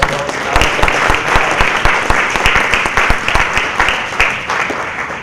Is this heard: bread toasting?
no